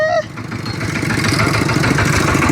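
A farm tractor driven by a young woman on a rural Lao village road, its engine chugging steadily and close, growing slightly louder after a brief voice-like tone at the start.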